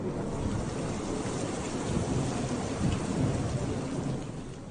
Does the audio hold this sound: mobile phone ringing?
no